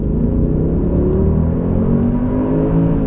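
A Mercedes CLK Black Series with a 6.2-litre naturally aspirated V8 revs hard while being driven, a loud, close, sustained engine roar that holds steady with a slight upward pitch and no talk over it.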